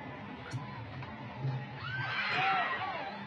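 A horse on Mexican television neighs loudly in a long, wavering whinny over crowd noise, rising to a shrill peak near the end.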